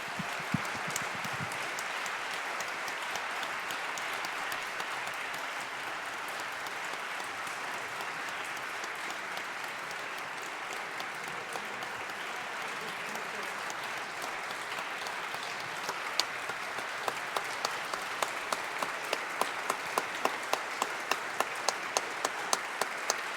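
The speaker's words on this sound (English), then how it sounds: "The standing ovation says it all, Governor Hochul." A standing ovation for Governor Hochul at a Hanukkah event fills the room with dense, sustained applause from a large crowd, with a few sharper individual claps emerging toward the end.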